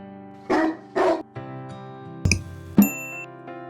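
A small Chihuahua dog barking close up: two sharp barks, then softer yips and whimpers, and a couple more abrupt barks, with a tonal backing music bed underneath.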